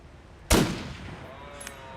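A single loud rifle shot from The Long Dark, fired at a cougar, cracks sharply and close, then decays into a lingering echo over quiet wilderness ambience.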